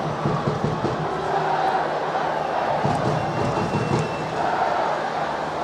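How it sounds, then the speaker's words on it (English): A soccer crowd rumbles in the stadium during the LA Galaxy vs. Portland Timbers match, a steady, far-off roar that rolls on evenly with no clear breaks. "Some rumbles in the crowd right now."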